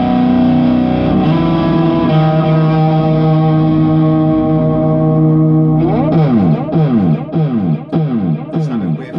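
Electric guitar through an amp with effects pedals but without the first pedal, playing loud distorted sustained chords that turn into a fast, rhythmic strummed riff near the end, no talking.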